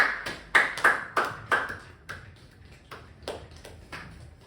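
A few students clap in a high school statistics class, a sparse handful of sharp, separate claps spaced unevenly and fading out, fairly close and with no talk over them.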